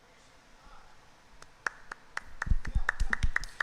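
An audience after a stage performance starts clapping. A few scattered claps come first over a quiet room, then build into a fuller, closer round of applause.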